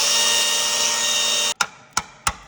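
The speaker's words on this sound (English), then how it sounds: "This is a spot weld drill bit." A spot weld drill bit grinds through the body panel of a wrecked Mercedes AMG GT63 in a steady, high whirring cut, then stops abruptly, followed by three short sharp knocks.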